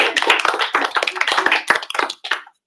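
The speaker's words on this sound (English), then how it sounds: "give yourselves all a round of applause" Audience at a Write the Docs Ottawa meetup breaks into applause, a dense burst of many hands clapping close by that carries steadily for about two seconds before thinning out and stopping.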